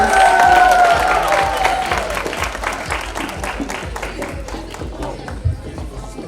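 Crowd applause and cheering at a sweet sixteen birthday party, loud at first and then tapering off, with music and voices mixed in.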